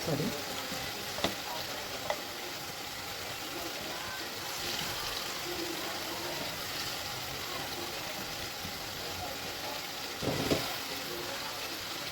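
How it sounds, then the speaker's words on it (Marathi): Tomatoes for pav bhaji frying in a pan, a soft, steady sizzle at moderate distance with a few clinks and stirring knocks, one louder scrape near the end. "त्यामध्येच मी टाकणारे लगेच टोमॅटो."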